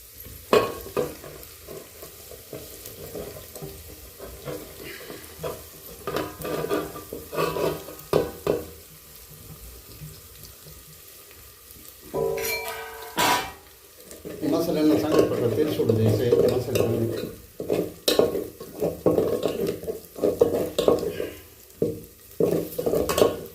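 Spice masala frying in oil for a pork stew, stirred with a spoon: bursts of sizzling and scraping against the pan come close up, with a voice talking in between.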